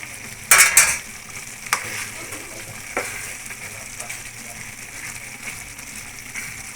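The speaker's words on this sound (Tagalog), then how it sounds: "Ayan yung isang margarine." Margarine melting and frying in a pan while being stirred, with a low steady sizzle and a few sharp scraping clinks of a utensil against the pan, the loudest near the start.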